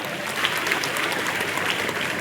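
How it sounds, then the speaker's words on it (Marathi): A crowd at a felicitation event for meritorious students claps loudly and continuously, a dense, steady wash of applause heard close with no voices over it. "या युट्यूब वाल्यासाठी, पत्रकारांसाठी जोरात टाळ्या."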